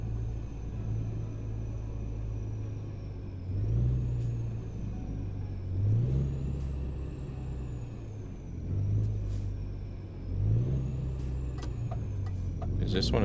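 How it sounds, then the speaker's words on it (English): Volvo VNL truck engine in American Truck Simulator drones steadily at a low pitch, rising in a few repeated gear-shift swells while driving, with faint air-brake hiss and other game sounds over it. "I like the sound of the Volvo engines in both games,"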